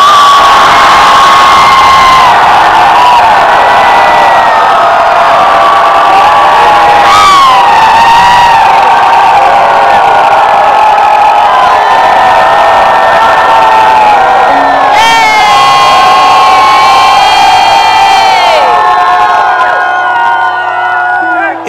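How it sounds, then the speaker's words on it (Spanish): A large conference crowd at a church gathering in Hawaii lets out one long, loud, sustained shout, full-throated and cheering for about twenty seconds before it suddenly cuts off. "So you're going to shout a long and loud shout."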